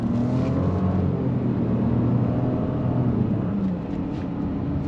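A 2025 Nissan Rogue S compact SUV pulls away after a U-turn, its engine droning steadily from inside the cabin and rising slightly under throttle before easing off near the end.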